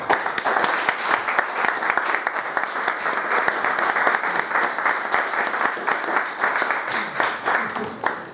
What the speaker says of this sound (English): Please give a warm Ghost Town welcome to John Kay.